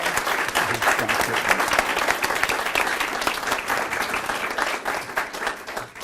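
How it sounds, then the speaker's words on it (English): Full, sustained applause from the audience at a middle school speech contest, many hands clapping in a thick, steady wash that tapers slightly at the end. "Can we have a big round of applause for Dr."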